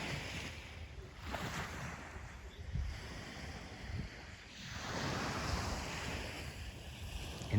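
Ocean surf at a seaside retreat just after sunset, steady broad wash of waves with swelling surges, rough wind buffeting on the microphone, continuous and fairly loud with no talking.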